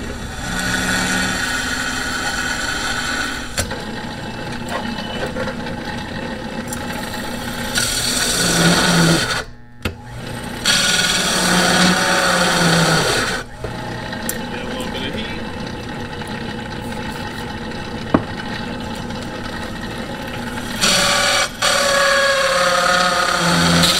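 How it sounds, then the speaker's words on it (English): An old-school bench drill press runs with a loud, continuous motor whine while cutting a hole in metal with a hole cutter after the metal is sprayed with fluid, with brief dropouts and pitch shifts as the load changes. "This is just an old school bench drill press."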